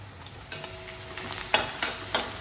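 Onion frying in a pan with dried red chillies for a wild leafy vegetable dish, a close, continuous crackling sizzle with a few louder bursts as the pieces are stirred.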